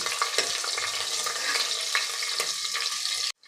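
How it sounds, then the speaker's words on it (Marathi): Ten to twelve garlic cloves and two small cut green chilies sauté in a pan for a rajma masala, with a loud, continuous close sizzle and light stirring scrapes before it cuts off abruptly at the end. "आणि यामध्येच घालायचं आहे आपल्याला दहा ते बारा लसूण पाकळ्या आणि अगदी आपल्याला दोन छोट्या हिरव्या मिरच्या कट केलेल्या यामध्ये घालायच्या आहे आणि अगदी दोन मिनटे आपल्याला परतून घ्यायचं आहे"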